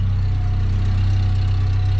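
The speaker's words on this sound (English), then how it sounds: "Oh, and she's idling." A Mazda B2600i pickup truck's cold engine idles steadily up close, a constant low rumble with no other sounds.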